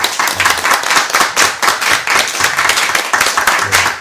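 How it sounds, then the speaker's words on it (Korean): A congregation at a Sunday church service breaks into close, lively applause, with many hands clapping in a loud, choppy burst that stays strong throughout. "박수 한번"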